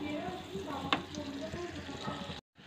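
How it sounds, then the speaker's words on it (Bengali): Minced ginger frying in oil as it is stirred in a pan for dhaba-style egg tarka: a steady close sizzle with one sharp utensil clink partway through, ending abruptly. "আদার কিমাটা দিয়ে আমি কষাতে থাকবো"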